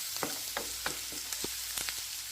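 Spices with fenugreek powder frying in a pan for a bitter gourd and tomato curry, a low steady sizzle broken by a regular series of light spoon scrapes and taps, close but quiet, no talking.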